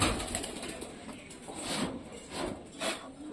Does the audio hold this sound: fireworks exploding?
no